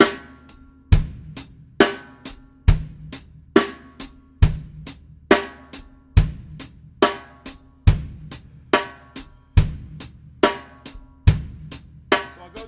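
A drum kit plays a steady groove with the hi-hat accented on the upbeats, crisp bright cymbal hits alternating with deep kick thumps in a repeating pattern, close and loud with no talking.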